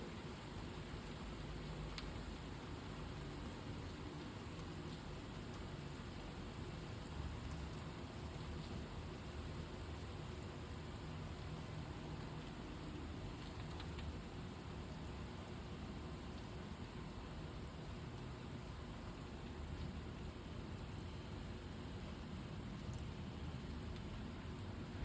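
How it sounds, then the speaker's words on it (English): Steady rainfall on a Sunday afternoon, a soft continuous hiss of drops with a low rumble underneath, even and unbroken throughout with no voices. "There's nothing more calming to me than hearing rainfall."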